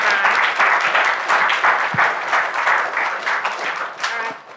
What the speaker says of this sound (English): round of applause for me and my colleagues